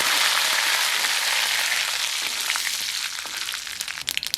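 Steady, loud sizzling as mustard seeds and curry leaves fry in hot sesame oil for a garlic chutney, crackling sharpening toward the end.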